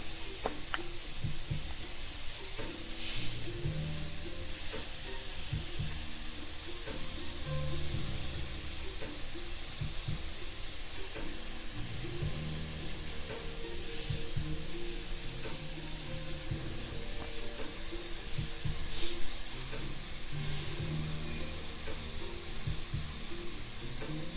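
An airbrush sprays paint onto a canvas while graffiti letters are painted, giving a steady, close, continuous hiss that barely changes for the whole stretch, with faint low background sounds and no talking.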